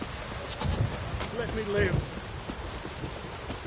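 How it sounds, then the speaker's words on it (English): Heavy rain downpour in The Witcher 3 hisses steadily as a dense wash of sound, with a person speaking briefly over it. "This downpour's a bastard"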